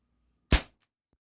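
Single sharp crack of a CO2 blowback air pistol, a Beretta PX4 or SIG Sauer P226 type, close and loud with a quick decay, followed by a faint click of the slide.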